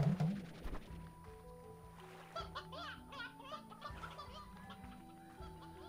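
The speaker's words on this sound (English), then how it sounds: "It's another rooster." A rooster clucks in the game Slime Rancher, a few short clucks under tonal game music and chimes, moderately faint, with no talking.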